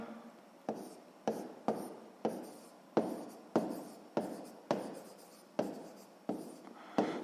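Pen strokes on paper while working a sixth-grade maths exercise: a steady run of about a dozen quick, scratchy writing bursts, close and clear, each stroke sharply starting and trailing off, with no talking.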